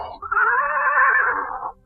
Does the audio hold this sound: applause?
no